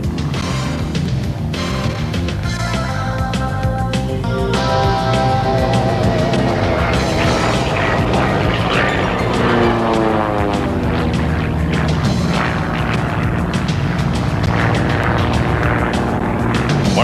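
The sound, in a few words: formation aerobatic aircraft flying at the Portland Rose Festival airshow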